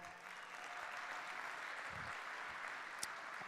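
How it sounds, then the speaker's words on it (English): Steady applause fills a luncheon room as fans clap for the master of ceremonies at a college basketball event, a continuous even wash of hands with faint voices mixed underneath. "Give Dave a round of applause."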